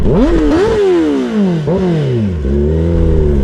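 A motorcycle engine revs hard at a drag race event at Ambey Valley, loud and close, with repeated climbing pitch sweeps as it accelerates and shifts, then settles into a rough sustained roar.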